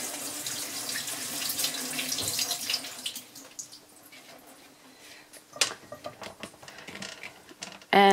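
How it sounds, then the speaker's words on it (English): A running kitchen tap splashing over fresh raspberries in a colander, a steady water rush that thins out midway, then resumes with brief louder splashes and clatter near the end. "So I'll usually just put like 1 or 2 containers into my colander, and I will just rinse a little bit at a time."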